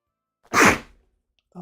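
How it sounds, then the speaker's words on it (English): One big human sneeze, a sudden loud burst close to the microphone that quickly trails off, followed by a faint breathy sound after a short silence. "Big sneeze."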